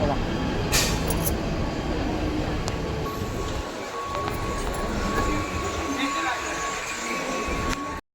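A Virar local train in Mumbai rumbles steadily past at close range with a continuous heavy roar and faint squeals, while voices murmur beneath the noise.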